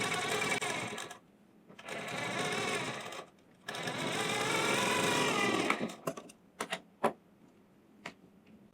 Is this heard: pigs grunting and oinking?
no